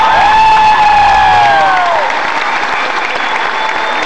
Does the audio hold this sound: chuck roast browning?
no